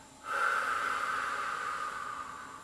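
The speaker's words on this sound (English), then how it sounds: "And exhale completely, all the air." A single forceful, breathy exhale during a Pilates breathing exercise rushes out close to the mic and holds steady for about two seconds before easing off, with no talking over it.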